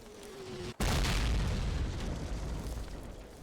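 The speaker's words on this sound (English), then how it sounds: "Mortars! Incoming!" Mortar shell exploding in a Call of Duty World War II battle, a single heavy close blast after a brief quiet moment, followed by a long loud rumbling roar that slowly fades.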